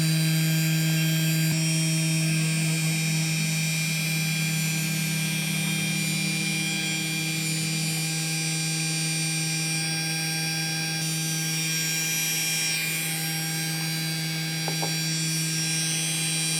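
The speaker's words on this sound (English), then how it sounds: "from the little controller here, I can turn on the spindle, which I'm going to do now" The spindle of a small Genmitsu mini CNC machine runs steadily, giving a loud, constant electric hum and whine with strong tonal bands. It stays unchanged throughout with no speech.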